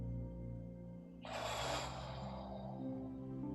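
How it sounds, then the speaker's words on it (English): A single slow, deep breath during a guided love meditation: a soft, airy inhale that swells and then tapers, heard close and alone over a quiet, steady background. "So let's take a deep breath."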